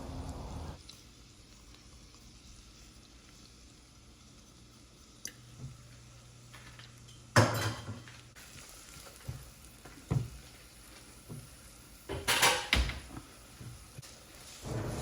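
Thinly chopped yellow onion softly sizzles in melted butter in a pan for risotto, a quiet steady frying hiss broken by a few louder utensil clicks and scrapes.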